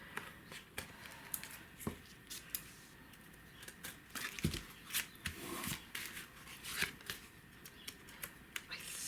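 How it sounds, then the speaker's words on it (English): Paper being cut and trimmed with scissors while making a mixed-media junk journal, a run of soft, close snips and rustles that comes in irregular bursts with quiet handling noise between them. "Okay, just going to cut this excess off here and actually just trim it down the edge a little bit"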